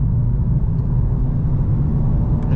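Engine of a 2024 Volkswagen Golf 110TSI R-Line with a rapid paddle-shift transmission, a steady low rumble heard from inside the car, loud and continuous with no clear gear-change breaks and no speech.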